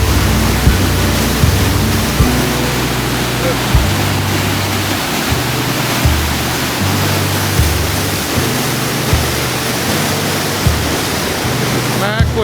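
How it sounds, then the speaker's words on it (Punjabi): A fast-flowing waterfall among large rocks in Scotland, roaring as a loud, steady wash of rushing water that fills the whole scene without a break. "ਬਾਹਲੀ ਤੇਜ਼ ਪਾਣੀ ਜਾਂਦਾ ਪਿਆ"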